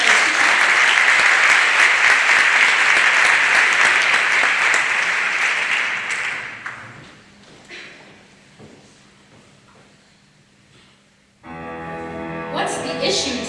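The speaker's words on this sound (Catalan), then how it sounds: "Doncs un aplaudiment per l'Arnau" Loud audience applause fills a municipal auditorium after a musical-theatre choir performance, holding strong for about six seconds before thinning out and fading, followed by quiet and then a burst of singing or music.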